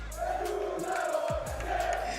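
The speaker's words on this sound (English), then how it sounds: "apparently the French community, they can cheer the loudest" French fans cheering and shouting at a Fortnite championship event, a loud roaring crowd with rising yells sustained throughout.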